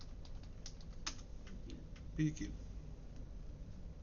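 Soft, quick keystrokes tap on a computer keyboard in short bursts as a pkill command is typed, close and quiet, with a brief low thump partway through.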